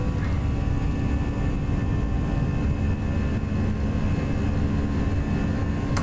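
Simulated airliner taking off and climbing in the X-Plane 11 flight simulator, a steady dense engine roar with a low rumble and faint whine held at constant loudness throughout, with no talking.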